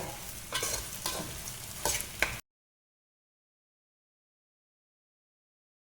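Spicy chicken macaroni stirred in a hot pan, with scraping, sizzling strokes for about two seconds before the sound cuts to silence.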